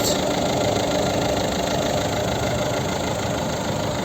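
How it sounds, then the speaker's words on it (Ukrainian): A 2009 Ford C-Max 1.6 diesel engine idles close by, with a steady, even rumble and a faint knocking texture that continues throughout. "Послухайте, як працює двигун."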